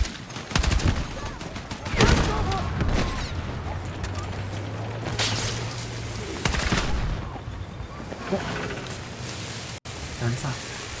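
Machine gun fire in a war video game, heard as loud, dense bursts of crackling shots with heavy impacts and battle noise, recurring over about eleven seconds, with voices under the din.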